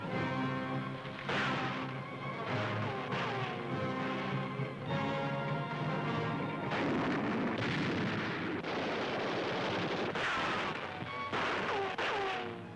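Gunfire and artillery in a 1943 wartime newsreel soundtrack, with repeated booming blasts and bursts of shots over a continuous rumbling bed, dense and fairly loud throughout without narration.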